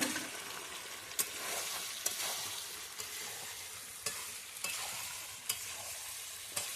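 Chicken giblets (liver, gizzard, skin) frying in hot oil with tomato added, a steady close sizzle broken by sharp spoon scrapes against the pan about once a second.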